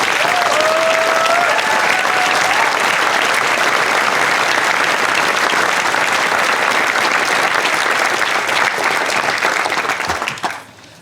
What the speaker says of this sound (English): let's give a big hearty round of applause to your teachers and coaches